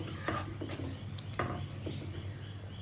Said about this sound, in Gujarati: હવે આને તેલમાં 1 મિનિટ સુધી સતળાવા દઈએ